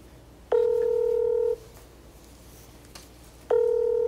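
Telephone ringback tone on an outgoing call: two long steady beeps about three seconds apart, clear and alone with a quiet background.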